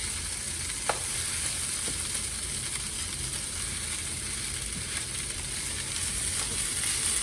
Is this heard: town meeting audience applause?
no